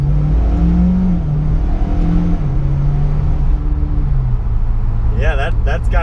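A Mitsubishi Evo X with a turbo engine and all-wheel drive accelerates, its engine note climbing and shifting in steady loud steps, heard from inside the car with a brief higher whine near the end.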